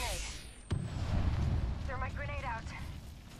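A grenade goes off in Apex Legends with one sharp crack, followed by a heavy rumbling blast and lingering low roar. Voices talk over the tail of the explosion.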